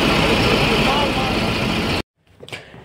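Boat engine on the Ganges at Varanasi during a ghat boat safari, a loud steady rumbling drone close by that cuts off abruptly partway, followed by a brief faint noise.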